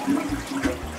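A household toilet flushes in a home bathroom, with loud rushing and gurgling water running continuously at close range.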